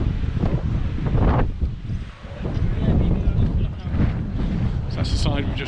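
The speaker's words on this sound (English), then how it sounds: "You can probably hear the winds picking up a bit now." Strong wind buffets the microphone on a beach at Playa de Palma, Mallorca, a loud, steady roar with gusty swells throughout.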